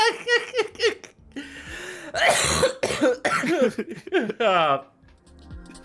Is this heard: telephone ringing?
no